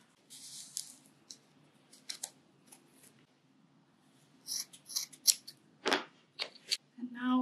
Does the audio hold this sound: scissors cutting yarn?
yes